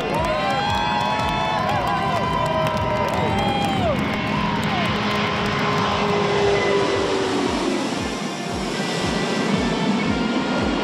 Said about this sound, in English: the 787-9 taking a turn to the left, heading out west, preceded by two chase airplanes